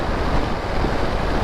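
Steady broadband wind rumble buffeting the microphone while riding a motorcycle on the prairies, continuous and fairly loud throughout, with no voices.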